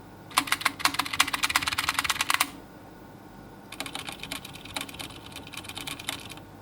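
Two bursts of rapid, clicky typing on a Keychron mechanical keyboard with looped stabilizers on the large keys, loud and close, separated by a short pause.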